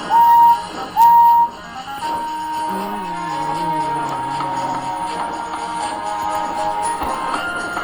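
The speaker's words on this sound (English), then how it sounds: "Ready, whistled Duck, and off they set." Two short, shrill steam engine whistle blasts from an animated children's train show open, followed by softer wavering tones and a steady background hum.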